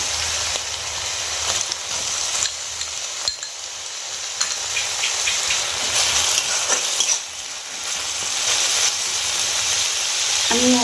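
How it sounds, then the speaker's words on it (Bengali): Chopped tomatoes frying in a pan for chana masala make a continuous close sizzle with intermittent stirring clinks and scrapes, and no one speaks. "এবার আমি টমেটো কুচিটা দিয়ে দেবো।"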